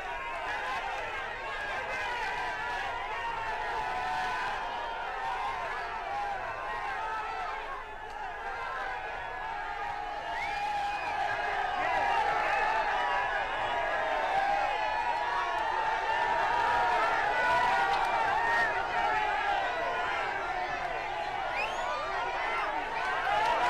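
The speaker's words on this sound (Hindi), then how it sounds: "ये भीड़ जो है वो कम नहीं हो रही है।" A huge crowd packs the roadside at Narendra Modi's road show, keeping up a steady roar of chatter, shouts and bustle for the whole stretch, loud and continuous with no lull.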